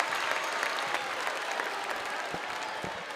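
A basketball crowd at a boys' regional final stands and applauds, a dense, steady wash of clapping and cheering that fills the gym for several seconds.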